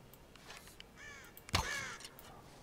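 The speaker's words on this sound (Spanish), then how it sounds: "Vale, vemos pajaritos." Crow-like birds caw in the Tomb Raider video game: a few harsh, scratchy calls over a quiet wilderness backdrop, then a sharp, louder thud-and-rush near the end.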